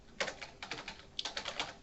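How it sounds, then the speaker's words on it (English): Quick bursts of keystrokes on a computer keyboard, two short runs of clicky taps close to the microphone, fairly quiet and with no talk. "Typing is hard."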